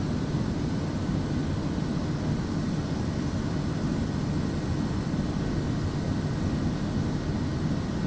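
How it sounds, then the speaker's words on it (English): Steady, unbroken drone of an airplane engine in Microsoft Flight Simulator 2024, a constant low rumble with broadband hiss, even in loudness throughout with no talking. "Let me get this plane down to the airport here"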